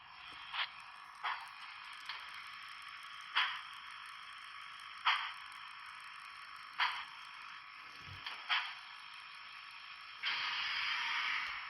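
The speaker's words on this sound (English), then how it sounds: "the chuffing of the steam engine it times with the speed of the train" The steam chuff effect from a Blunami sound decoder in a LEGO train puffs faintly in short, slow, irregularly spaced bursts over steady electronic hiss, ending in a longer, louder hiss.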